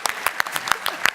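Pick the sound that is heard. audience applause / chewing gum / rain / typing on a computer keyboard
audience applause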